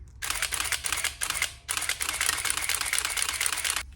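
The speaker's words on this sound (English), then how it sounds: "Let's put it on continuous shoot." Nikon F100 35mm film camera firing its shutter in continuous shooting mode, a dense, rapid, close-up run of mechanical clicks and motor drive whir lasting about three and a half seconds, briefly pausing once midway.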